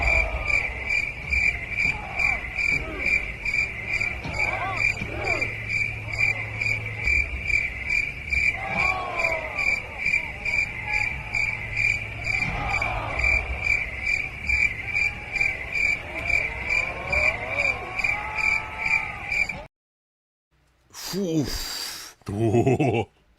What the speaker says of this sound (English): The crickets are fucking louder than the fans nowadays.